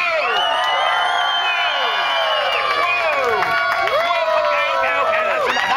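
A crowd at a torch-juggling show cheers loudly, with overlapping whoops, rising and falling yells and excited shouting voices layered over a steady roar.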